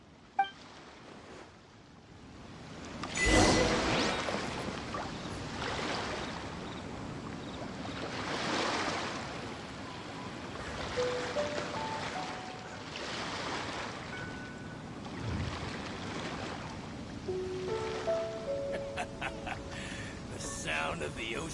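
Ocean waves in the video game Genshin Impact roll in as slow surging swells that rise and fall every few seconds, with a soft windy wash between them and faint tonal game sounds near the end.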